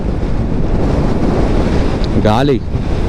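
Strong mountain wind roars steadily against a 100cc motorbike on the ride from Manali to Ladakh, a loud continuous buffeting rush with a brief voice rising near the end.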